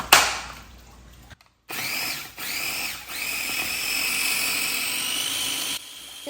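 A food processor chops shallots for a confit chicken prep, whirring in loud bursts with short stops and pitch sweeps between runs, with no voices.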